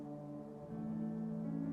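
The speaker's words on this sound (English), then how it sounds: "I can't ignore when people honk at me." Honk notification alert in the video game Final Outpost, a steady low horn-like drone with layered tones that holds for nearly two seconds, quiet and alone with no speech.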